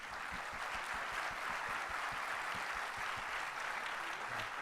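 An audience applauding a speaker, a steady, fairly quiet spread of many hands clapping that continues evenly from start to finish.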